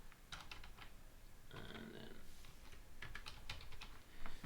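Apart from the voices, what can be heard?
typing on a computer keyboard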